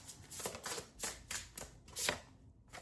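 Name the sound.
shuffling tarot cards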